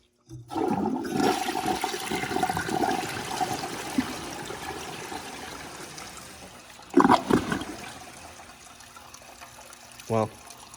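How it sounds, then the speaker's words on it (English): Small-tank VitrA Evergreen toilet from 2012 flushing with a loud rushing gurgle, then a long steady trickle as the tank refills, broken by a brief louder splash near the end; a close, indoor sound with no talk. "This tank's pretty small, so it fills up pretty quickly."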